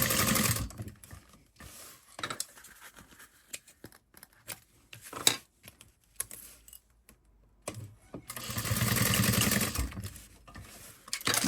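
A sewing machine basting fabric pieces at an eighth-inch seam for a pack, heard in short whirring bursts with gaps, handling clicks between runs, and a longer stretch of stitching near the end.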